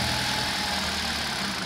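Hyundai i20 Sportz engine idling just after starting, a steady loud mid-pitched hum with a faint regular knock and vibration underneath, close up and without voices.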